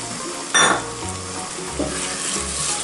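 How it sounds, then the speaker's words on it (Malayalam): Roasted brinjal masala for kathirikai thokku is stirred in a hot pan. A steady sizzle runs throughout, broken by a sharp scrape of the spoon near the start and softer scraping strokes later on. "നന്നായിട്ടൊന്ന് മിക്സാക്കി കൊടുക്കാം."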